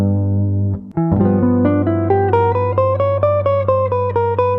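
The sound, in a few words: Blues guitar lick combining speed bursts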